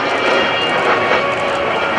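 Military jet aircraft roaring steadily overhead at a Naval Air Station Oceana airshow, a loud continuous broadband engine rush that holds evenly throughout without pause.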